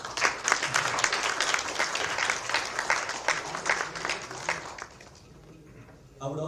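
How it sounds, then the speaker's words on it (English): Audience applause for a moderator and panelists at a communication management conference session, dense and steady clapping from a room of people for about five seconds before fading out, with a voice starting up near the end. "Let's all give one more round of applause to our moderator and the panelists."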